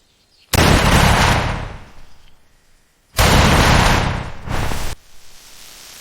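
A shoebill stork clatters its bill in two long, loud, harsh rattling bursts, each lasting about two seconds, with a quiet pause between them and no voices.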